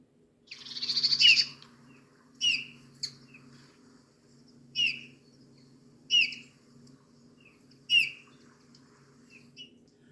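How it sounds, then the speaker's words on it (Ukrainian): A Eurasian bullfinch calls in a series of clear, soft piping notes, about six separate calls spaced a second or two apart, fairly close and loud over a faint low background hum. "це снігур"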